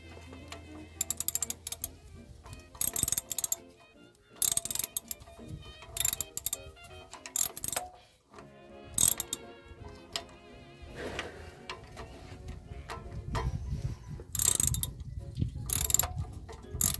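A wrench ratchets on a stuck bolt of a fuel pump neglected for about 40 years, giving repeated bursts of metallic clicking and mechanical clatter with short pauses between strokes, close and fairly loud.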